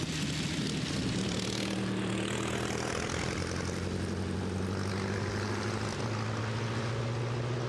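A large old Curtiss OX aero engine in a vintage Berliet race car roars and drones steadily up close at a hill climb, with a deep throbbing tone that shifts pitch as it works through the gears.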